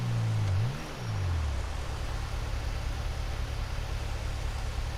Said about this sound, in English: This idle sound does not sound good at all.